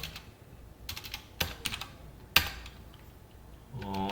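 Code is typed on a computer keyboard in a few quick bursts of close, crisp key clicks separated by short pauses, with a faint hum creeping in at the end.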